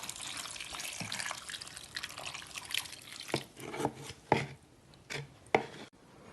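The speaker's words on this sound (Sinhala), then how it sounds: "මේ විදිහට දැන් අපි දිය කිරි ටික කවලම් කරලා පොලොස් එකට එකතු කරගන්නවා." Thin coconut milk being mixed by hand into cut young jackfruit, with wet squelching, sloshing and rubbing sounds in irregular close bursts that grow more distinct toward the end.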